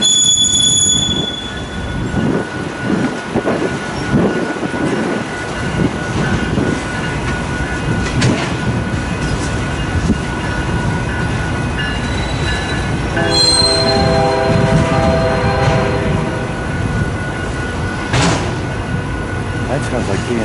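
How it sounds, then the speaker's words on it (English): A westbound BNSF manifest freight train rolls past in Fremont, Nebraska, with a loud continuous rumble of railcars, wheel squeal and a brief horn tone partway through, while someone talks over it. "That sounds like BNSF."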